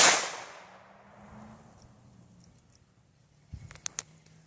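A 1911 pistol fitted with an Advantage Arms .22 LR conversion fires one sharp, loud shot that rings out and fades, followed a few seconds later by a quick burst of fainter cracks and clicks.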